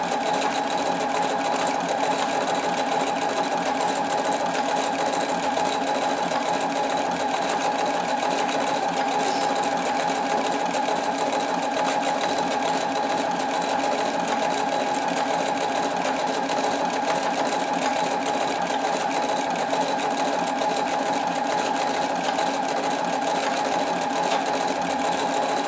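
Sewing machine with an embroidery needle stitching decorative stitches through layered shirt fabric, a steady close mechanical whirring hum with rapid needle rhythm, running continuously and alone without talk.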